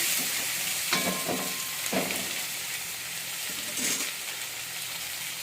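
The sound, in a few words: tomatoes added to a frying pan and sizzling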